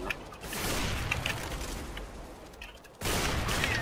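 Gunfire in the game CS:GO, a dense burst of rapid shots filling most of the moment, briefly dropping off before another loud burst near the end, with no talk.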